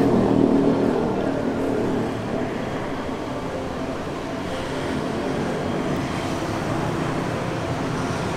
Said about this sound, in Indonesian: sebentar lagi bisnya akan berangkat